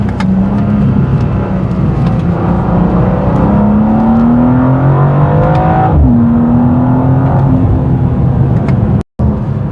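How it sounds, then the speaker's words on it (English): A 2025 BMW M2 facelift in sport mode, its exhaust droning loudly from inside the cabin as revs climb steadily, drop briefly, then rise again under continuous engine roar. "You hear much more from the exhaust and also from the speakers."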